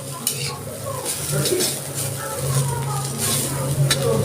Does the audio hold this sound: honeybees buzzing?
no